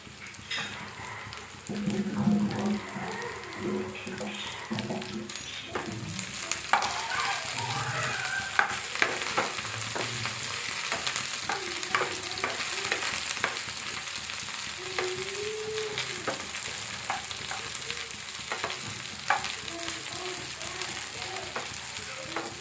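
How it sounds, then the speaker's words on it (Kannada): Brinjal pieces fry in a pan with a steady close sizzle, punctuated by frequent clicks and scrapes of stirring, Uttara Karnataka style cooking heard without talk. "ಇವಾಗ ಇದಕ್ಕೆ ಬದನೆಕಾಯಿ ಹಾಕ್ಕೊಳ್ತಾ ಇದ್ದೀನಿ. ಇವಾಗ 2 ಸೇರಿ ಫ್ರೈ ಮಾಡೋಣ."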